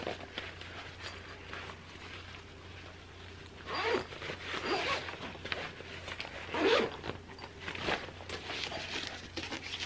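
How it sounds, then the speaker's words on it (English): A zipper being pulled closed on the pocket of an advent book club tote, heard as soft scraping runs with a few louder zips near the middle over a quiet indoor room. "So you flip over this part here that's got the pocket and you zip it back"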